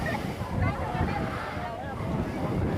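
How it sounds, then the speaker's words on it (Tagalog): Strong wind gusting across an open outdoor viewpoint at a café in Taytay, Rizal, a steady rumbling buffet against the microphone that runs the whole time beneath a person's voice. "Grabe nga hangin yan."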